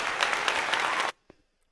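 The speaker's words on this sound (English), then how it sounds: "Damn means good, and also applause." An applause sound effect plays on a music feedback stream: a dense burst of clapping and cheering for about a second, then it cuts off abruptly into near silence with one faint click.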